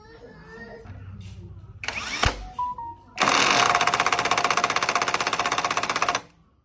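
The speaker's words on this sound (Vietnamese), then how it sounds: "em đang dùng con mã máy Workfix 550N, em mở ốc 19 của bánh xe ga ra" A Workfix 550Nm cordless impact wrench loosening a 19 mm wheel nut: after a few short handling noises it hammers loudly and steadily for about three seconds at close range, then stops.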